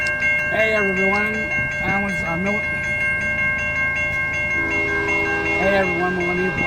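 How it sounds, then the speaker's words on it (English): A CSX freight train rolls through Dover, Florida, its horn sounding in several loud blasts, two short bursts and then a longer sustained call, over a constant rumble of rail and engine noise. "the train is coming up behind us"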